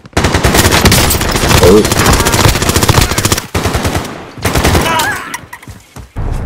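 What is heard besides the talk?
machine gun fire in a PlayStation 4 shooter game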